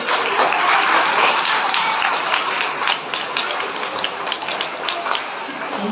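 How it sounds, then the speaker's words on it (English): Students at a school event at St. John's School, Talcher, clapping together in a dense, steady round of applause that holds evenly throughout and eases slightly toward the end. "I would like to request our students to give them a huge round of applause."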